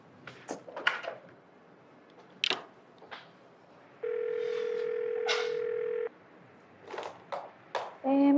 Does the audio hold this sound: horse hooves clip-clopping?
no